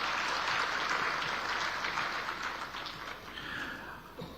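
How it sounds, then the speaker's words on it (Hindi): An audience at an industrialists' gathering in Jaipur applauds a speech, a faint, broad wash of steady clapping that fades gradually with no talk over it. "इसके लिए आपको राजस्थान सरकार के लिए ताली बजाकर बधाई देनी चाहिए।"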